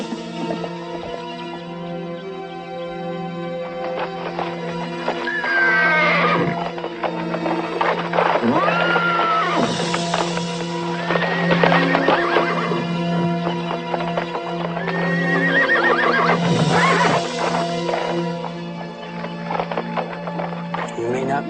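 A cow pony mare in Montana neighs and whinnies several times in loud, close bursts, with hooves clip-clopping between the calls in a western setting.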